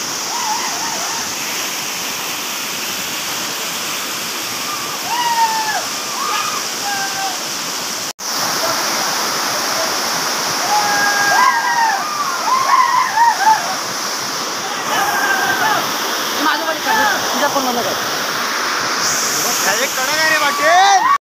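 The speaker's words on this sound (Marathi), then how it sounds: "हा बघा मित्रांनो तो धबधबा" A waterfall at a village outing pours with a constant, broad rushing roar throughout, with bird calls and a voice or two faintly over it.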